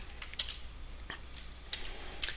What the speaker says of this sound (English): You notice I'm clicking on the top of the canvas there.